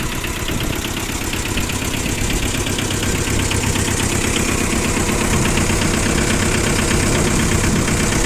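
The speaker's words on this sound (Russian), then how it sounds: "В принципе, трактор сам по себе работает ровно." A Yanmar two-cylinder four-wheel-drive Japanese mini tractor with a tiller attachment runs steadily at idle, its engine a close, loud, even chugging rumble that continues without a break.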